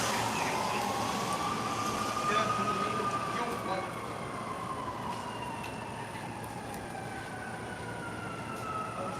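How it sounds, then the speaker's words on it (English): A distant siren wails in a slow, long rise and fall over constant background rumble, faint and drawn out. "Sirens, yeah. Somebody's having a hard time in life. The sirens."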